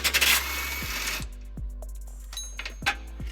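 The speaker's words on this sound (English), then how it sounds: "to remove those we're going to be using a 19mm socket" A 19mm socket on a ratchet wrench works bumper bracket bolts on a 2013 Nissan Xterra: a burst of rough mechanical noise, then a few quick clicking ratchet strokes, close and moderately loud, no talking.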